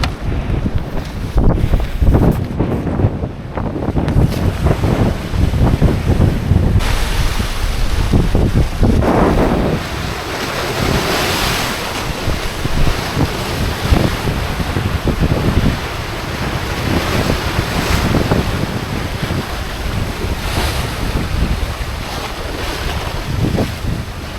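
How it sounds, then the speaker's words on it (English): Waves crashing on a Scottish shore, a loud continuous roar of surf mixed with heavy wind buffeting the microphone, surging and easing over about twenty-four seconds with no speech. "The waves crashing in now."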